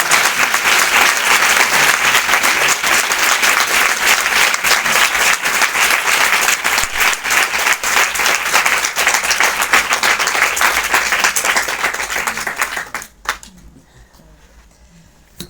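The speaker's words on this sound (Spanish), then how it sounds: "Un aplauso por lo menos." After a mental health day talk in Alicante, an audience breaks into loud sustained applause, dense and close, lasting about thirteen seconds before cutting off to near quiet.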